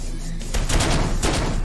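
Video game gunfire from an early-access first-person shooter: two loud, dense volleys roughly half a second apart, close and punchy, with no voices.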